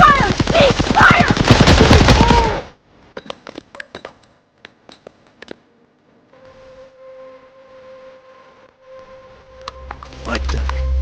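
Automatic gunfire from a Marvel film battle scene, with a dense loud burst of rapid shots at the start, then scattered sharp reports and a low droning hum, and a rumbling swell returning at the end.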